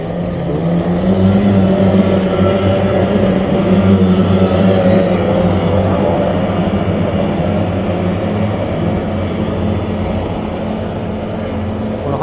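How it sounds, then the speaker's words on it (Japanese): Racing boat engines roar at the Toda boat race course, a loud, steady, continuous drone that holds for the whole stretch without pause, heard from nearby with no talk over it. "迫力あるエンジン音がいいですね。"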